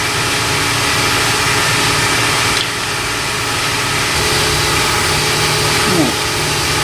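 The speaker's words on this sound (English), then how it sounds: "Got Mr. Compressor in the background for some ambiance." Air compressor running steadily in a shop while an Infiniti QX56 fuel pump is inspected, a continuous loud droning hum that fills the whole stretch without pause.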